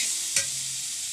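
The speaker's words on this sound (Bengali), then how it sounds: "আমার আমগুলো নুন হলুদ মাখিয়ে ভালো করে ভেজে নিচ্ছি" Mango pieces coated in salt and turmeric fry in a pan with a soft, steady sizzle, broken by one brief scrape of stirring partway through; nobody speaks.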